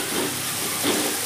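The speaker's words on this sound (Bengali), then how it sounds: "এবার চিকেনটা আমি খুব ভালো করে ভেজে নেব তেলের মধ্যে" Chicken pieces fry in hot oil in a home kitchen, giving a loud, steady, close sizzle with a slight swell near the end.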